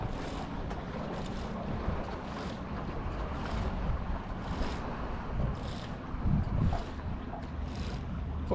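Steady wind buffets a boat on the California Delta while out bass fishing, a constant broadband rush with gusty pulses and low rumble, no talk.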